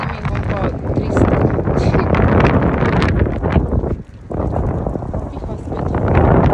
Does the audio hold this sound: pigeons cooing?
no